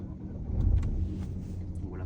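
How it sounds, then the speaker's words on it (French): A Renault Clio V Intens with a 90 hp engine and manual gearbox starts up, settling into a low, steady idle rumble that swells briefly near the start and then holds even. "pied sur le frein, et on va démarrer le véhicule ensemble"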